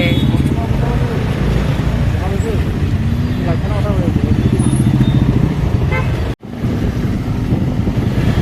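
Busy road noise in a traffic jam with engines rumbling and occasional horns, wind buffeting the microphone, and a voice talking over the traffic throughout.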